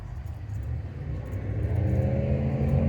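A Ford Mustang Cobra's engine idles and then revs up at an outdoor car show, a steady low rumble swelling louder over the last seconds, with no talking.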